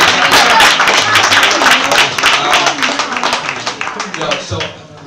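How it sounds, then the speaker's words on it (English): An audience claps in a dense, sustained burst at a youth empowerment homecoming show, loud and close for several seconds before thinning out toward the end. "Clap it up"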